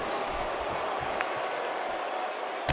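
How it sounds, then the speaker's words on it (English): Wrestling arena crowd in the video game WWE 2K18: a dense, constant roar of noise at a distance, even in level, with a faint thump or two. "if you think this Dayton crowd has been loud so far, just wait until this match heats up."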